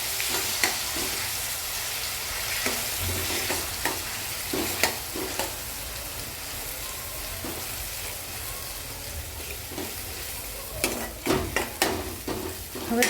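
A spoon stirs chutney into potatoes frying in a pan, giving a close, steady sizzle broken by scraping and knocking strokes that cluster toward the end.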